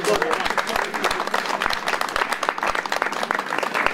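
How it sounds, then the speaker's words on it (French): A crowd applauds at a cycling criterium event, sustained lively clapping fairly close and loud throughout, with some voices mixed in. "Et on peut les applaudir."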